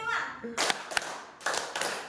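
A school group claps through a counted clapping routine, a few distinct, slightly ragged bursts of claps separated by short pauses, with a voice speaking just before them.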